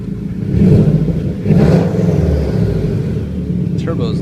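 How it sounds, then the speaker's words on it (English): A turbocharged 2000 RS car engine is revved a little, rising into a couple of mid-pitched surges over a steady low idle rumble, heard up close. "I'll rev it up a little bit so you can hear it."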